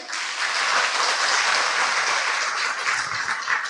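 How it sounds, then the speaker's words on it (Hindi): Dense, continuous applause from a large audience at a spiritual gathering, loud and steady throughout with no talking. "ताली तो बजाइए"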